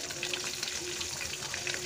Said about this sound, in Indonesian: Jadi minyaknya itu belum benar-benar panas, sudah digoreng.